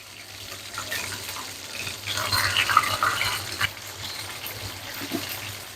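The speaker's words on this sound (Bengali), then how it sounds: "উল্টানোর পর আবার 2-3 মিনিট বা 3-4 মিনিটের মতো এটাকে আবার ভাজবো" Lotte fish fry in a pan, giving a steady, dense sizzle that swells in the middle. Small crackles and a faint clatter come as the pieces are flipped.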